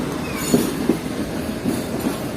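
A relief train near Karachi rolls along the rails with a steady low rumble and a few soft periodic wheel clicks at a moderate distance, no voices.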